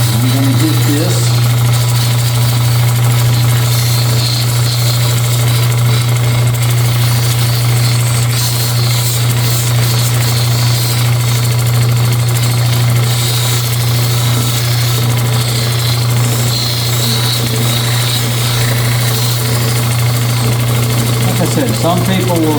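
Lapidary machine running a 600 grit rubberized polishing wheel for cabochons, a loud constant motor hum with a steady whirring drone throughout, close up, with someone talking over it.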